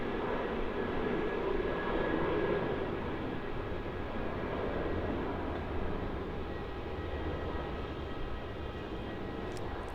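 A Qantas Boeing 767, flight QF767, taking off from Melbourne Airport bound for Perth, a steady distant jet-engine roar holding at an even level throughout.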